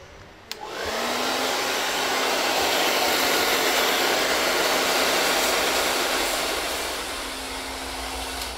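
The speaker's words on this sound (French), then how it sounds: "c'est d'utiliser le sèche-cheveux en le tenant par le corps" A hair dryer switches on with a click and blows steadily at close range, a loud continuous whooshing roar with a faint whine, no talking.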